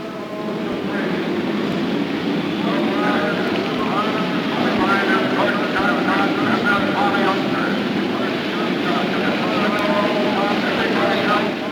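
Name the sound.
IndyCar race cars driving past on the 1975 race track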